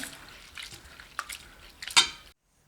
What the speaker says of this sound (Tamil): ஒரு ரெண்டு டைம் நல்லா கழுவி எடுத்துக்கலாம்